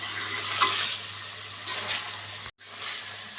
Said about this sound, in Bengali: এখন আমি চিকেনগুলো ভালোভাবে কষিয়ে নেব।